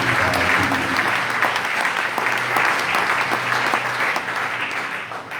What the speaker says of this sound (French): Si vous êtes d'accord, vous acclamez le Seigneur.